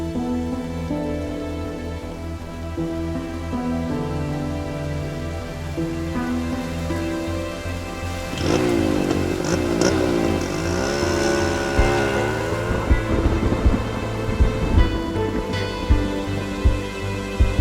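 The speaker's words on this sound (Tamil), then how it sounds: "மழை நின்றதுக்கப்புறம் போ." Steady rainfall patters throughout a scene from the Tamil film Iraivi, with sustained music playing over it; no clear thunder stands out.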